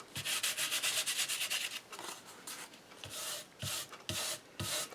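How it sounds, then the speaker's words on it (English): Fingers rub loose metallic flakes off a surface in a series of close, dry, scratchy strokes, quick bursts at first then slower separated passes, with no talking. "so I'll just rub it with my fingers to get kind of the bigger pieces off."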